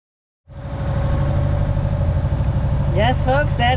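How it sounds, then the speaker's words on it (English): A sailboat's inboard engine runs steadily while motoring away from Bonaire, a continuous mid-low drone with a tonal hum, starting abruptly and staying loud throughout, with chirpy sounds near the end. "Yes, folks, that's the sound of the engine running."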